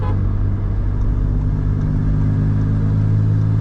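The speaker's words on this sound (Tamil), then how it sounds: "இந்த ஆக்சலரேஷன் பாருங்க, இது 6th கியர்ல தான்" A Stage 3 tuned Skoda Slavia accelerating in sixth gear, its engine a steady, loud low drone with road and wind noise from inside the cabin, no voices.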